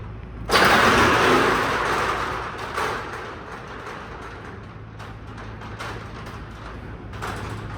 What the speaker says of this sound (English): It's a massive door, but it is so noisy.